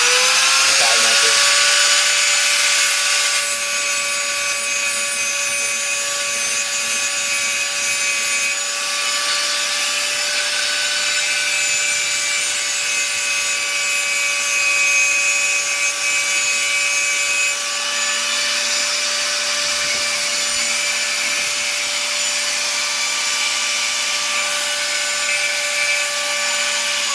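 A grinder sharpens a knife blade in a loud, continuous whine with steady ringing tones and a grinding hiss, running the whole time, while a person talks now and then.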